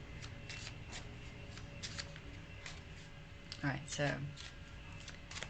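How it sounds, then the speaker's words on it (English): Playing cards are shuffled in short, soft riffling bursts under a woman's speech, a louder flurry of shuffling near the middle, fairly close in a quiet room. "I'm shuffling, shuffling, shuffling for Cole"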